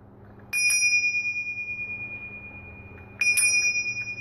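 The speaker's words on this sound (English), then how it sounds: "I've got a beautiful bell that I use on my mindfulness walks." A small hand bell used on mindfulness walks struck twice, each a bright clear ring that sustains and slowly fades, loud and close with no talk.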